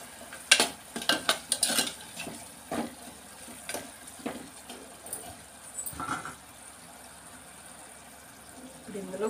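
Prawn curry with chilli powder being stirred in a pan: a run of sharp metal spoon scrapes and clinks, loudest in the first two seconds, then sparser strokes over a faint sizzle, with no voices.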